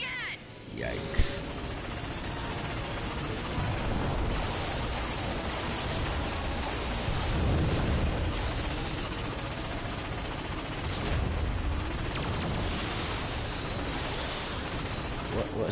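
Ion cannon blasts fire in a space combat video game, a dense, continuous wash of roaring blasts and rumbling impacts with swelling bursts throughout, loud and unbroken.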